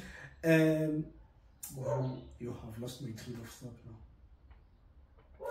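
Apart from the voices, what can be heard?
dog barking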